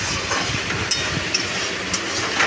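Onion and spice masala for a chicken dish frying in a pan, a continuous close sizzle with repeated scraping strokes of stirring and small pops, alone without talk.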